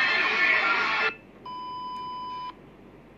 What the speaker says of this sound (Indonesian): Aku pas dapat notif orderan guys.